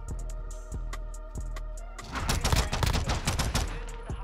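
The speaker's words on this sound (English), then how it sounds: "you're getting beamed by a pistol" The 9mm Daemon pistol fires in Call of Duty Modern Warfare 2, a few spaced single shots first, then a dense, loud flurry of overlapping gunfire.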